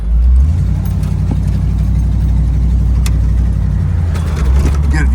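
A restored 1968 Ford Bronco engine idles with an exhaust leak at the header gasket, a loud, steady low rumble close by with faint irregular ticking riding on top and a slight swell near the start.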